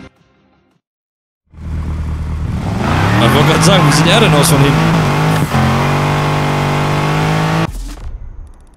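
A Mercedes-AMG G63 in the racing game Need for Speed Heat starts up and idles loudly with a deep, steady engine drone, a brief rev midway, and someone talking over it in German.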